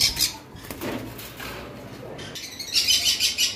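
Caged pet birds, a sun conure and a cockatiel, give a few sharp chirps with rustling and light movement between them; the calls are close and fairly loud, and no one speaks.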